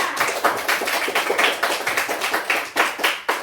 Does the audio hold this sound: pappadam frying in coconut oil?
no